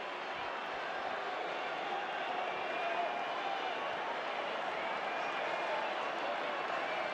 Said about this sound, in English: And even the Colombia fans are applauding him